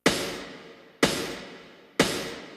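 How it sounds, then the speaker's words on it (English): Snare drum sampled from a song: three evenly spaced hits about a second apart, each a sharp bright crack with a long decaying noisy tail, moderately quiet and alone. "And I also used the snare drum as a snare drum."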